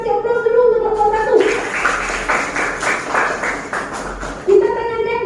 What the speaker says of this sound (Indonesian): kita kasih aplaus dulu untuk kelompok 1